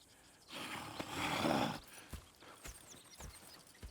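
Horse hooves clop on the ground in the video game Red Dead Redemption 2, in a quick, uneven rhythm, with a brief louder rushing burst early on and faint snorting sounds nearby.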